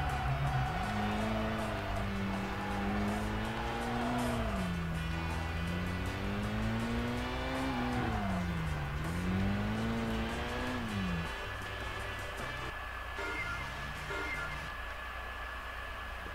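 Racing car engine in the video game Kaido Racer 2, revving up and down in repeated swells for about eleven seconds before settling to a lower, steadier drone; no talking.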